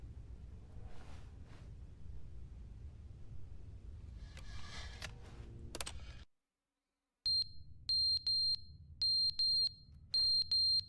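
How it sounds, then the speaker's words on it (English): A smoke detector in The Stanley Parable: Ultra Deluxe sounds after a brief silence as a run of shrill electronic beeps, some single and some paired, over a low steady hum. Softer rustling and clicks come before it. "The smoke detector is going off."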